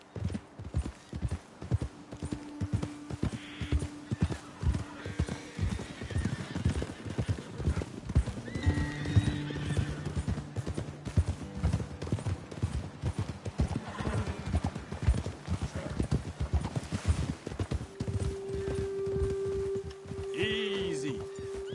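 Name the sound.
horses' hooves while riding, from video game Red Dead Redemption 2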